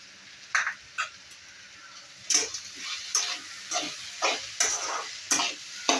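Onion frying in oil with a little salt in a pan, a soft sizzle broken by a series of sharp stirring scrapes, roughly one or two per second.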